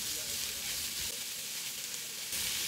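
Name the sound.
sautéing marinated beef strips in a pan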